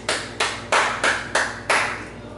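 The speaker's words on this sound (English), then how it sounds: "So let's take the time out to applaud those kids." Six slow, evenly spaced claps, loud and close with a ringing decay after each, sounding like one person or a small group rather than a full audience.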